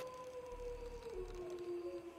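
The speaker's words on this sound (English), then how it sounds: "Are you hearing the fucking deer right now?" A deer calls outdoors at night, a long, faint, drawn-out tonal cry that wavers slightly in pitch and sounds distant, with no talking.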